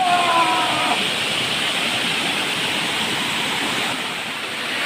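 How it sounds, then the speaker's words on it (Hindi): A waterfall in Goa pours down from above in a steady, loud, broadband rush of falling water that fills the whole stretch without letting up, with a brief faint voice near the start. "देखो ऊपर से कैसे पानी अच्छा से गिर रहा है"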